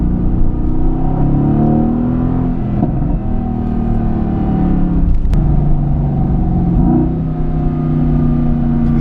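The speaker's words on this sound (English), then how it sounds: "We flick it into race mode, the revs on this car just become pretty amazing" A Mercedes AMG GTS in race mode, its engine revving steadily and loudly close by, with rising and falling rev sweeps over a continuous rumble.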